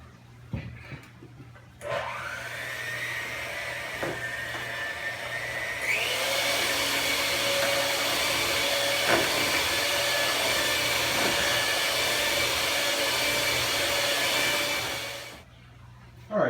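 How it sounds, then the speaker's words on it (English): Cornbread batter of milk and butter is mixed with a loud, steady motorized whir that jumps higher in pitch partway through, runs on evenly, then winds down and stops near the end. "Now we're going to mix."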